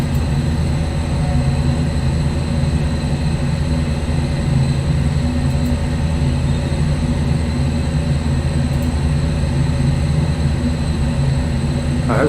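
Train engine with Lenta turbos in a train simulator game, a constant loud low drone with a steady whine layered above it, unchanging for the whole stretch.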